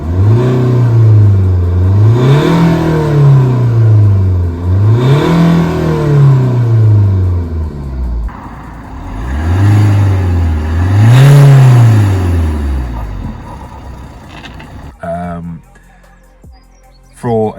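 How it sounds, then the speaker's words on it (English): A 2-litre diesel Alfa Romeo Giulietta revved repeatedly, with several loud rises and falls of engine pitch close by, a few seconds apart, before settling back to idle near the end. "what surprised me about this car is how the engine sounds"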